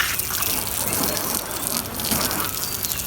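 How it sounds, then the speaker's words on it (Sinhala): Water gushing steadily from a hose attached to an outdoor tap, a constant loud rushing hiss with no break. "ටැප් එක කරලා හෝස් එක ගහගත්තා. දැන් ඉතින් හොදන්න තමයි තියෙන්නේ. වතුර එන්නේ."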